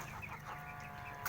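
Laying hens on a rooftop coop cluck faintly, with a few soft, scattered calls over a quiet background hiss.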